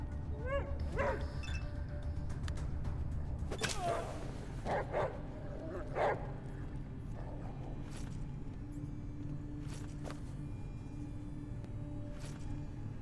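A dog in the post-apocalyptic RPG ATOM RPG barks in scattered bursts, with a few yips and whimpers, over a steady rumbling game ambience, moderately close and fairly loud.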